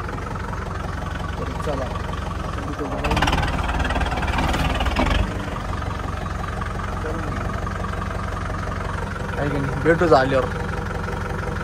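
A tractor engine idles and runs steadily on a farm field after ploughing, a low continuous drone throughout, while someone talks over it.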